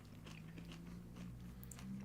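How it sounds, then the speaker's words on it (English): Someone bites and chews a crunchy, double-crunch sesame chip, giving soft, close crackling crunches over a steady low hum, with no talking. "It is a very crunchy chip."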